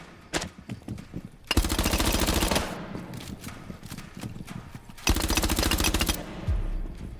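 Video game gunfire in a shooter match, with two dense sustained bursts of rapid automatic fire separated by quieter scattered shots and game sounds, loud and close.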